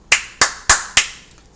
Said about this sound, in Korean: 박수를 칠 일이죠.